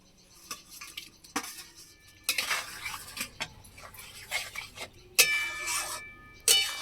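Fried eggs are stirred into a pan for an egg, butter and garlic dish, with irregular metallic clinks, scrapes and knocks of utensil on pan over a faint sizzle.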